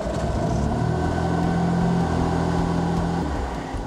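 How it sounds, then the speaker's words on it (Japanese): A Toyota Corolla race car with a liquid hydrogen engine runs after starting, giving a loud, steady low engine rumble with a droning hum. It is heard close by. "エンジンが無事にかかり実験は成功しました。"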